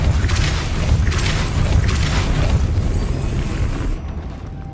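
A Depulso spell is cast in Hogwarts Legacy, giving a loud booming burst with a rumbling, crackling tail of repeated pulses that fades out sharply near the end.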